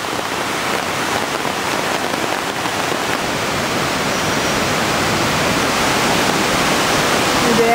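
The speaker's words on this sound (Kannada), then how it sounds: "ಈಗ ಫಾಲ್ಸ್ ಹತ್ರ ಹೋಗ್ತಾ ಇದ್ದೀವಿ" Irpu waterfall rushing in a steady, dense roar of falling water, loud and continuous throughout, with no voices over it.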